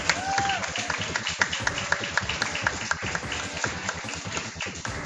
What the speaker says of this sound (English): Big applause for Takashi.